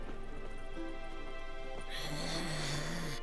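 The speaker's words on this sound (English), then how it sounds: "Is that person snoring while they're awake?" A character snoring in The Witcher 3 game, a steady droning snore rising in volume over ambient in-game background noise, with no speech.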